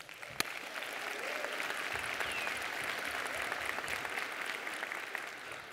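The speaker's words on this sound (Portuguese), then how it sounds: "Então, uma salva de palmas, então." An audience at a sales summit talk gives a steady round of applause, dense clapping that fills the room evenly and stays moderately quiet throughout.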